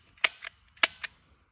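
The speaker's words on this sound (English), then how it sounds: "I'm gonna shoot money." A toy gun shooting money gives four sharp snapping clicks in two pairs, each pair a louder pop followed by a softer one, close by and otherwise quiet.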